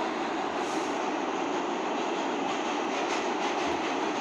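A New York City train runs past with a loud, continuous broadband roar and rumble, steady throughout and close by, drowning out everything else.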